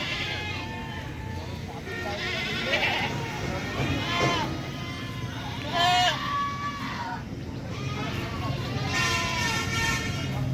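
Local native goats bleat repeatedly at Baneshwar livestock market in Puthia, Rajshahi, with overlapping calls from several animals over a steady crowded market din and voices.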